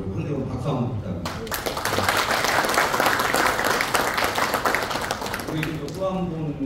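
A crowd applauds a provincial assembly member at a Gyeonggi Province football association gathering. Dense, steady clapping swells in after a man's speech, holds for several seconds, then gives way as his talk resumes.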